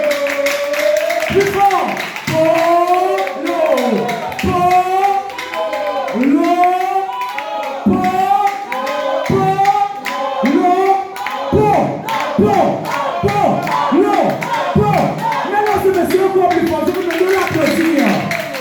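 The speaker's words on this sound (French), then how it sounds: "je vous demande de l'applaudir encore plus fort s'il vous plaît" An audience claps rhythmically in unison at a music competition show, loud steady beats of hands under someone speaking and chanting over a microphone the whole time.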